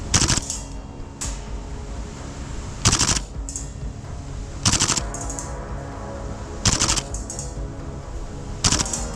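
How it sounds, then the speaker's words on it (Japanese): Tokyo Marui gas blowback airsoft rifle fires on full auto in six short, loud, rattling bursts spread evenly with brief pauses between them, each burst a rapid string of sharp mechanical cracks. "フルオートに切り替えるとまた撃てるように。"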